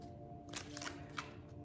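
A deck of tarot cards is shuffled indoors, giving a few quick papery riffles and flicks in short bursts over a low background hum.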